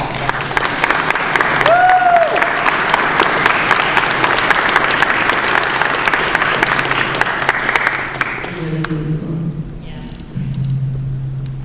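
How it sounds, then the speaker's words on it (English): A big round of applause from a convention audience at Power Morphicon 4, loud and sustained for about eight seconds before thinning out. A voice is heard briefly over the clapping, and some talk follows at the end. "give you a big round of applause."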